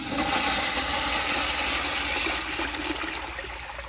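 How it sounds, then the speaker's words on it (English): A Kohler Bardon urinal flushes with the water pressure turned up high, giving a loud, steady rushing wash of water close by that fades slightly toward the end. "Here is a flush."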